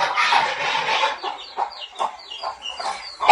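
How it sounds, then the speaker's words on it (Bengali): Barnyard chickens and ducks squawk and cluck close by in a rapid, agitated chorus. The calls are loud at first, then break into short, choppy bursts. "যখনই ভিডিও করতে এলো তখনই হাঁস মুরগিতে ক্যা ক্যা ক্যা ক্যা ক্যা করে চিল্লাচিল্লি শুরু করে দেয়"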